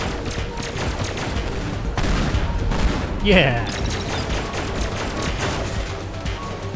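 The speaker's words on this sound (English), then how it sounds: "Explosions are cool." Rapid gunfire and booming explosions burst through a Teardown level, dense cracking volleys continuing throughout with a sharp swelling blast midway, while a player shouts briefly over the chaos.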